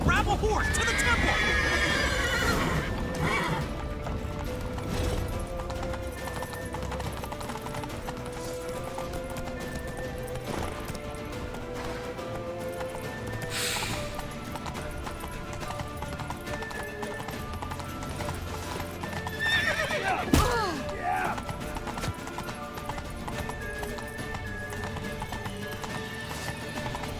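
Galloping horses in The Witcher 3 video game, steady hoofbeats with neighs under loud game music, shouting voices and battle noise throughout.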